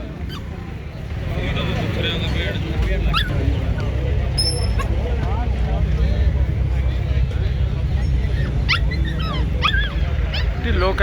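Dogs bark and yip intermittently at a livestock fair during the Maghi Mela in Sri Muktsar Sahib, over a loud, constant rumbling background, with some whimpering; the barks are moderately distant and partly masked.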